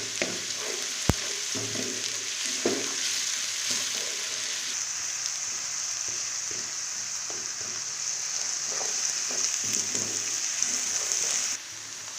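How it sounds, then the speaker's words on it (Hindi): Onions with ginger-garlic paste stir-frying in a pan for chicken keema with peas, a steady close sizzle with scraping stirs and one sharp clatter early on, no voices. "अब हम इसे अच्छी तरह मिक्स कर देंगे ताकि ये भी प्याज के साथ भुना जाए।"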